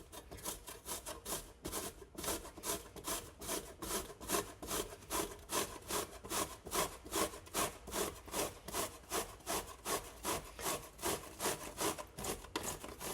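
Raw unpeeled vegetables rubbed against a kitchen grater in steady, even back-and-forth strokes, a close, dry rasping that repeats about twice a second with no talking.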